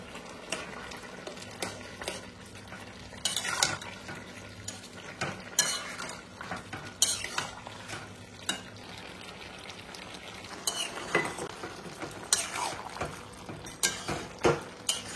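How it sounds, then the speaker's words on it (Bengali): A cumin, cardamom and cinnamon paste is stirred into a jackfruit curry in a pot, with repeated scraping and clattering spoon strokes in uneven bursts over a low bubbling sizzle, close up and fairly quiet. "এই যে সেই জিরা, এলাচি, দারচিনি বাটা এখন দিয়ে দিচ্ছি।"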